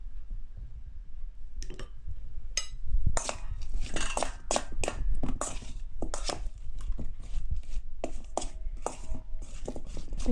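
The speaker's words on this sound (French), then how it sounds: "Je vais bien mélanger." Tomatoes and green beans are stirred in a clay tagine, a steady run of close scraping and clattering strokes with a few sharper knocks, heard alone.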